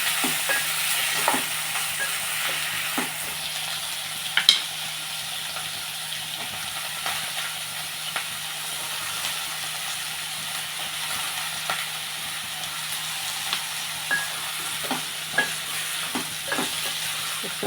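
Brinjal curry fries in a pan under a constant hiss, with a spoon stirring it in a loose rhythm of scrapes and light knocks, close and steady for the whole stretch.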